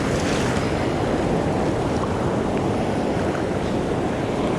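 Ocean waves breaking on a surf coast beach during saltwater fly fishing, a loud continuous roar of surf mixed with wind buffeting the microphone, no voices.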